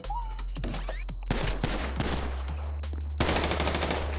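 Rapid volleys of automatic gunfire and sharp shots crack through the GTA 5 roleplay bank robbery, loud and continuous with bursts overlapping, no talking over it.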